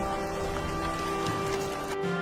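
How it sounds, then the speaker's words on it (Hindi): Steady cartoon-style monsoon rain hiss falls continuously and evenly for a couple of seconds, with a faint tonal hum underneath. "कुछ दिन के बाद मानसून आया और बारिश होने लगी"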